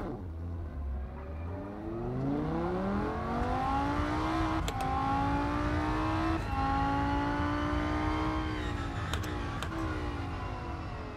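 Audi race car engine in the sim racing game Rennsport, laid out at Spa: a steady, loud engine drone rising through the gears, with sharp upshift breaks and climbing revs throughout, no talk.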